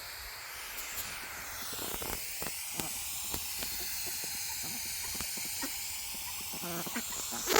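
Garden hose on a mist setting watering newly planted strawberries, a continuous soft hiss with faint scattered ticks and droplet patter, close and steady throughout.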